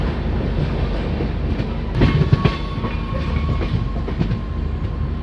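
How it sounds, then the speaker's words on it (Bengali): The Kolkata–Guwahati Garib Rath Express rolls into Kishanganj station in the rain, a loud steady rumble of rail cars with rhythmic wheel clatter and a few sharper clanks midway, no voices. "ট্রেন কিষানগঞ্জ স্টেশন এন্টার করছে"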